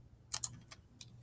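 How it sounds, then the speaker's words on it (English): A few soft keyboard clicks at a computer, typed while entering math equations: a quick pair of taps, then scattered lighter ones, faint and close in a quiet room with no talking. "I'm going to type in my two equations."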